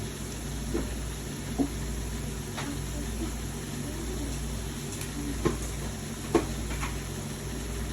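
Chicken pieces seasoned with salt and pepper fry in a pan with a steady, close sizzle over a low hum, broken by a few soft clinks of stirring.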